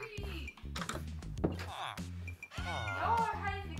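Minecraft cats meow several times in the game, rising and falling mews between and under a person's steady chatter, with soft thuds and game noises in the background.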